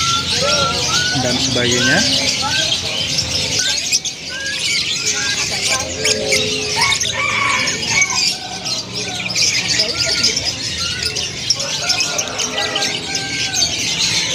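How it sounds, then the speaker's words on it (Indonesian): Songbirds at a Yogyakarta animal market, including starlings and magpie-robins, chirp, whistle and squawk in a dense overlapping chorus, with pigeon-like cooing and nearby people talking throughout. "Nah, ini berbagai macam kicauan, ada jalak, ada murai"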